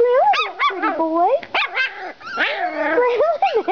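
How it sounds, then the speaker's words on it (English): Dog heard up close giving a rapid run of yips, barks and howling whines of varied pitch, loud and continuous with only brief gaps. "Are you growling? Who are you growling at?"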